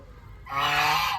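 A single loud goose-like honk from a fowl in a rural yard rings out close by for under a second after a moment of quiet background.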